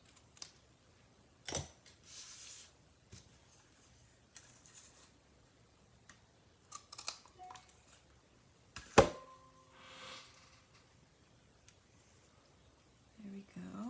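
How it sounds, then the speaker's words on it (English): Scissors snip cardstock for an autumn greeting card with a few sharp, separate cuts spaced among quiet pauses and light handling noises, heard close up with no talk. "on the other side, we need to cut off a lot. So I'll cut a little bit more."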